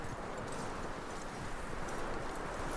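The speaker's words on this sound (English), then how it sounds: "that looks like a decent horse. You should keep him. Get that horse hitched." Horse hooves clip-clop steadily in Red Dead Redemption 2, a dense continuous patter of hoofbeats over a noisy outdoor backdrop, close and moderately loud.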